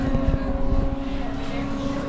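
A river tram boat engine on the Moscow River drones steadily with a low rumble and a constant hum, loud and close, running without a break.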